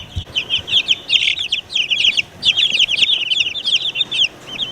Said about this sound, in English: I'm gonna give some to our little baby chickens and turkeys over here.